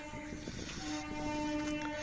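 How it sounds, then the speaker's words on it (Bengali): A train pulling into Belmuri station in West Bengal, its sustained horn tone sounding over the rumble of railcars, fairly faint and distant, with no one speaking. "বেলমুড়িতে ট্রেন ঢুকে গেছে।"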